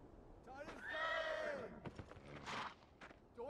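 A horse whinnies in the video game Beyond Two Souls, one clear rising-and-falling neigh at moderate distance, followed by soft hoof clops and faint movement sounds.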